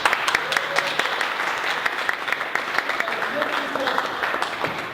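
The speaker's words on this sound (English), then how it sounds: "So let's hear a round of applause." An audience at a DNewTech tech meetup gives a round of applause for a sponsor: dense, steady clapping from a mid-sized crowd with scattered voices mixed in, lasting several seconds.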